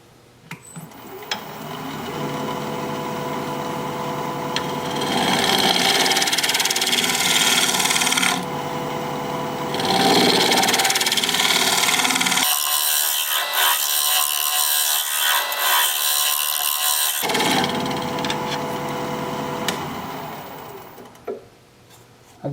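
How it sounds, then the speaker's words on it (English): Walnut spinning on a wood lathe as a scraper cuts it, giving a steady, loud rasping whine in long passes with brief pauses and changes in tone, no voices. "Or maybe I'll use my scraper."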